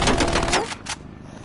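Sentry turret in a video game firing a rapid burst of rattling automatic shots for about half a second, loud and close, before tapering off.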